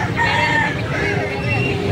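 A rooster crows at a low-cost chicken market in Taytay, its call standing out over a dense background of clucking fowl and crowd murmur, with people talking nearby throughout.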